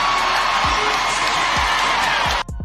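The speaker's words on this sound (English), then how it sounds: "The crowd erupted" An arena crowd at an Indiana basketball game roars after a Lexie Hull three-pointer, a dense, loud, sustained wash of cheering that cuts off abruptly near the end.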